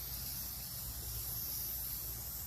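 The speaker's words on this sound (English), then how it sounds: "You spray, I'll hold. This is the red oil." Red air filter oil sprays from an aerosol can onto a dry air filter for a 2006 Yamaha 450, making one continuous close hiss that holds at a steady level.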